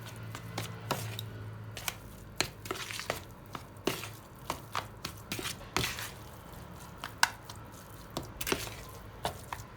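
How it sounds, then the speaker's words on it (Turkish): A spoon works through a börek filling of crumbled lor cheese and oil in a bowl, giving quiet, irregular clicks and soft squishes close by, with no talk. "Şöyle malzemeleri karıştıralım."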